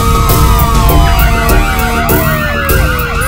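Several emergency sirens wail together in a bank-robbery and bomb-blast scene from a Kannada film, loud and close, their overlapping rising and falling tones layered over a low rumble of traffic.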